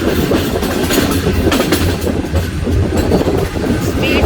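Millat Express train pulling away from Nawabshah station in Pakistan, a steady loud rumble of wheels and carriages with faint clattering, continuous and close throughout with no talking.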